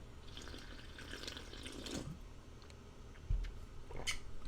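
Water pouring into a container, a short bubbling trickle with a brief splash near the middle, close and quiet, no talking.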